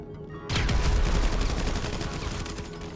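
Rapid rifle fire from an advanced rifle in the video game GTA Online, a loud sustained burst of shots starting abruptly after a brief silence and continuing steadily to the end, with no talking.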